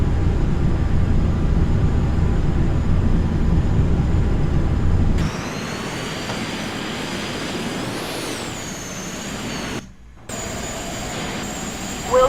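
Steady airplane engine drone in Microsoft Flight Simulator X during a Caribbean landing approach, loud and rumbling at first, then dropping to a thinner, quieter hum with a brief cutout near the end.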